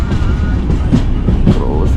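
At Cherthala railway station the Alleppey-Dhanbad Express gives off a close, loud low rumble with rattling clatter from the rail cars, continuous throughout with faint tonal whines over the rolling noise.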